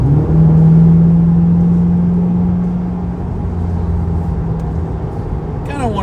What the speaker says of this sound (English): Kind of wanted to have some of the engine sound coming through.